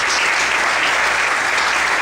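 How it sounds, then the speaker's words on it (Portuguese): Church congregation applauding strongly, a dense, loud, continuous wash of clapping from many hands, steady throughout with no voices over it. "Vamos aplaudir o Senhor muito forte."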